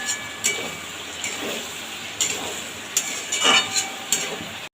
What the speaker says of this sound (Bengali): এবার বেগুনটাকে এর সাথে খুব ভালোভাবে কষিয়ে নেব